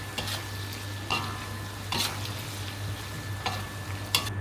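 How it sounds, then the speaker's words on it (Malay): Meat sizzles and fries in hot oil with onion and chili in a home kitchen, a steady close crackle broken by several sharp stirring scrapes and clinks against the pan, no voices. "Kita boleh masuk ke bawang dengan lada. Goreng dia."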